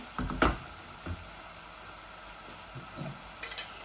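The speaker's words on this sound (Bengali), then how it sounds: "এই পেঁয়াজগুলা পালা করে আমি কষাইলাই মশলাগুলা, তারপরে আমি সরিষা বাটা দিলাই" Onions and spices fry in a pan with mustard paste while fish cooks: a faint, low sizzle with a few soft stirring clicks and scrapes near the start.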